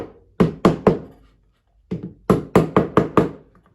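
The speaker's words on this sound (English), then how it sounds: "And if it's a little tight, just give it a little tap." Sharp wooden knocks tap a wooden birdhouse door into place, three quick raps, a pause, then a steadier run of about six more, close and crisp with no talking.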